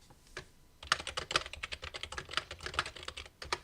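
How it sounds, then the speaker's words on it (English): Mechanical keyboard typing, a rapid, steady stream of crisp clacking keystrokes close to the microphone, starting after a faint opening and continuing without speech. "the recording is going to love my mechanical keyboard."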